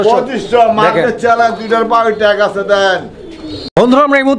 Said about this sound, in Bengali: এগুলো কি কবুতর পাকিস্তানি বাগদাদি হুমা বাগদাদি হুমার কবুতর